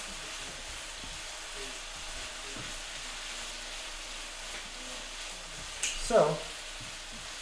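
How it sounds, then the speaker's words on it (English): Food sizzles quietly in a frying pan while a utensil stirs it, soft scraping and frying noise running steadily, with a brief clatter near the end and a voice saying a word. "Give me 1 second while I stir this."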